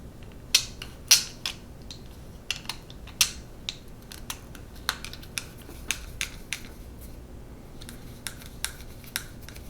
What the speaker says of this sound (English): We are going to put 2 20mm M3 screws through these pieces into 2 small M3 lock nuts.